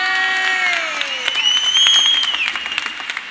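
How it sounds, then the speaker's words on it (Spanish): At a carnival chirigota performance, an audience applauds and cheers as loud whistles and shouted voices rise over the clapping, lively and close throughout. "un aplauso para la Blanca."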